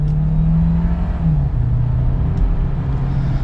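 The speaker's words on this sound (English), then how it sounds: "And while we're in sport mode, we'll just give it another quick acceleration." A 2022 Kia Sorento SX Prestige AWD hybrid accelerating hard in sport mode, a steady, loud engine drone with a rising pitch and a brief dip around a gear change, with road and tire noise underneath.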